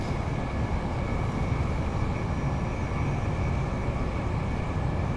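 IET train passing in Train Sim World, a dense steady rumble and rush of rolling wheels that stays even throughout.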